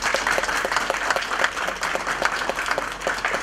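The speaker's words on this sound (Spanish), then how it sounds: "Les damos un aplauso." Steady applause from an audience, many hands clapping at once for a few seconds without talk.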